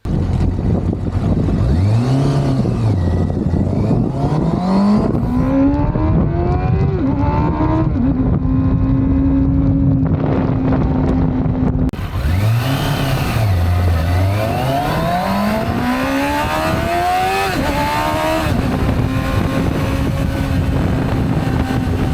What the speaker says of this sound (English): the induction roar that you hear as a rider is brilliant